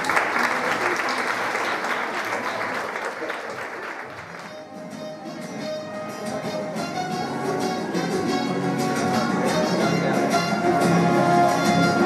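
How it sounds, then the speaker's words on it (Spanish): Loud applause from an audience at a school Christmas festival for fifth- and sixth-year pupils, a dense continuous clapping that dips briefly then swells again, with music tones rising underneath in the second half. "Un fuerte aplauso para ellos y ella."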